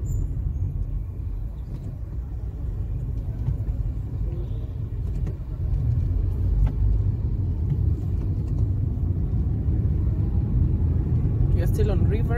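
Busy Sunday road traffic on River Road in downtown Nairobi, a steady low rumble of cars and engines rolling past close by, with people talking throughout.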